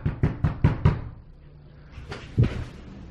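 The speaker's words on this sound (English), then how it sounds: "I think somebody's knocking on the door." Someone knocks on a door in a quick burst of five sharp raps. After a short pause, a couple more knocks follow, close and clear.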